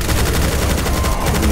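A chaingunner enemy fires its chaingun in Doom 2 with the Project Brutality mod, a loud, dense stream of rapid gunshots hammering continuously up close.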